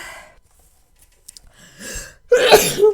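A woman sneezes once indoors, loud and close, after a brief sharp intake of breath and a few quiet rustles.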